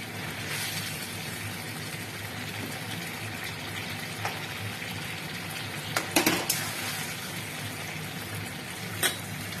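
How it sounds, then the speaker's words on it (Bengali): Chili chicken sauce thickened with cornflour water boils and bubbles in a pan, a low steady simmer with several sharp clinks of a utensil against cookware. "সেটা কিছুক্ষণ ফুটতে দিতে হবে।"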